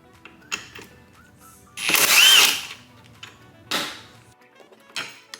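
A power tool works on a bolt holding the factory seat belt in a Toyota GR86, giving short bursts with one louder whirring run in the middle, close by, among small clicks and rattles.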